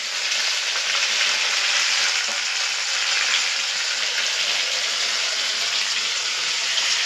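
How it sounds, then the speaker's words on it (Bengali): Fish frying in hot oil, a dense continuous sizzle that stays steady and fairly loud throughout, with no voices. "এই মাছগুলো বাকি আছে এখনো ভাজার জন্য"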